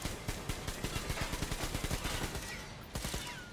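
Rapid bursts of gunfire in the video game Metro Exodus, repeated automatic shots in quick rhythm, loud and close, with a brief pause before another burst near the end.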